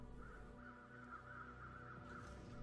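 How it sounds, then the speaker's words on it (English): Crows caw repeatedly in the video game The Long Dark, a steady run of harsh calls over a low wind-like background, with no talking. "Got crows over there."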